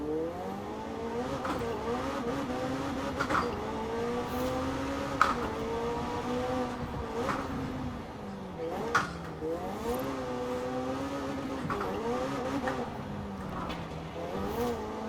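A McLaren 600LT engine drives in Forza Horizon 4, a steady rising and falling race-car drone with rapid gear shifts and repeated revs, heard continuously under faint background noise.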